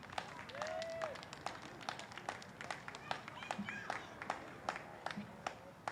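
Sparse, scattered applause from a small crowd at a baseball game, a few distant claps spread across several seconds with crowd murmur and voices around it.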